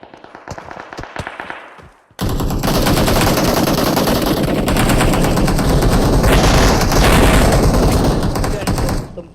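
Automatic gunfire rattles in a PUBG match, a dense sustained burst of rapid shots that starts abruptly after a few scattered single shots and stays loud and continuous, with players talking over it.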